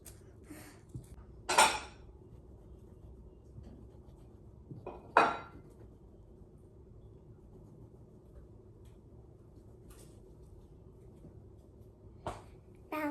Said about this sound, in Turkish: Tabakları yerleştirdim. Şimdi çatal ve kaşıkları.